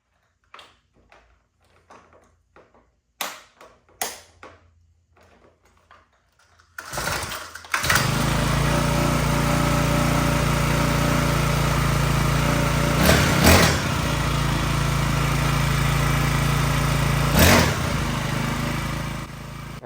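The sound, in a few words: XPRO 40cc gas engine running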